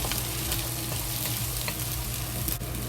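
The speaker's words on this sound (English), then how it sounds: "Slowly fry until the ginger and the scallion" Ginger and scallion fry slowly in oil for General Tso's chicken, giving off a steady, dense sizzle with faint crackles. A low hum runs beneath it, and the sizzle holds even and close throughout, with no voices.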